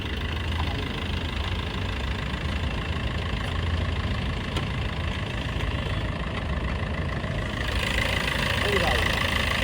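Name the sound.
Maruti Ertiga diesel car engine starting and idling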